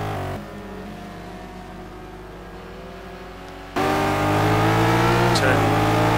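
Race cars from a simGT racing video game, including a Corvette, a Lamborghini and a Ferrari F458, droning steadily with layered engine tones that jump louder and higher partway through as the cars accelerate; commentary runs over them.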